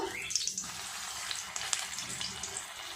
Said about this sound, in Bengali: কাবাবগুলো ভাজার জন্য তেল চাপিয়ে দিয়েছি, তেলও গরম হয়ে গেছে।